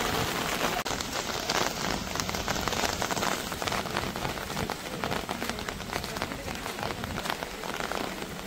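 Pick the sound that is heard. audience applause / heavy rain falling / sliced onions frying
heavy rain falling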